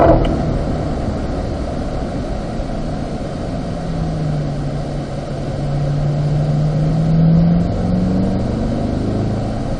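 A car in fifth gear accelerating out of turn 2 on the Spring Mountain racetrack, a steady loud engine drone from inside the cabin with a slowly rising pitch and no talking.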